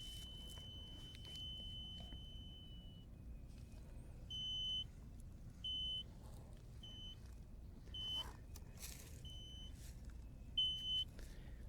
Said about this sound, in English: we lower this down until it just begins to beep